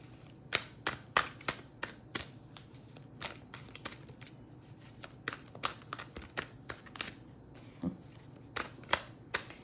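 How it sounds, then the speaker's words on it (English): Cards being shuffled in very humid air in repeated quick riffles, crisp slapping bursts at an uneven rhythm, close up with no talking. "It is so super humid that the cards do not want to shuffle."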